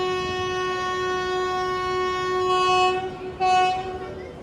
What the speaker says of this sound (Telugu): ప్లాట్ఫామ్ పైన లింగంపల్లి